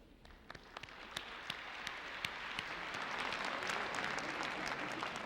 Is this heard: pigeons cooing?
no